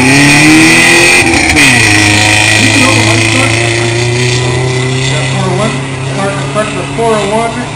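A turbocharged super production rally car pulls away from the start of a gravel rally stage, its engine loud and close, revving hard through rising gear pulls with a droning roar that fills the whole stretch.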